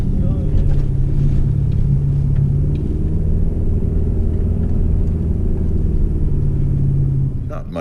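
A 4WD truck drives a wet bush track through recently burnt country in Queensland, a loud, steady, close engine rumble throughout with tyre noise, with no one talking.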